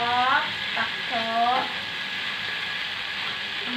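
Tempeh and tofu frying in hot oil during a weekend home cooking session, giving a steady, close sizzle throughout while a voice speaks briefly at the start.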